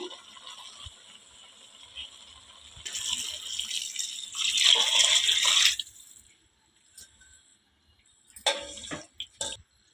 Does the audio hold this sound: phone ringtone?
no